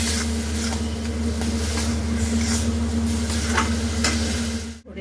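Ground cumin, turmeric, coriander and garam masala with salt sizzle steadily in a pan for paneer bhurji, with a spoon stirring and scraping in repeated strokes over a constant low hum, ending abruptly.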